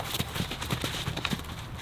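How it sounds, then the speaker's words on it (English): Several horses move about a paddock with other horses nearby, their hooves clip-clopping in an uneven rhythm of close, moderately loud steps over a soft outdoor background. "And so for Little Miss, she's a little bit new, especially with a bunch of other horses here."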